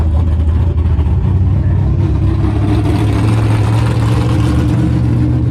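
An alcohol-injected big-tire 1964 Chevy Chevelle drag car engine rumbles loud and close, a steady deep drone that swells slightly partway through.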